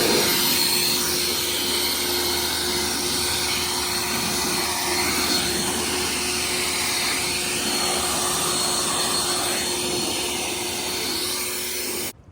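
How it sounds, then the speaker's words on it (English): An air blower dries off a skiff boat trailer before painting, giving a loud, steady, close whooshing roar with a constant whine that runs without a break for about twelve seconds and then cuts off. "So now I'm just gonna give it a blow, dry it off, and then it's time for paint."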